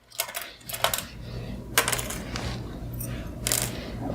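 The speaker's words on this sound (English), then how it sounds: "press the go button. And I'm only going to sew a few stitches" An embroidery sewing machine runs a few stitches, giving a series of sharp metallic clicks and taps at an uneven rhythm over a low steady motor hum, close and fairly loud.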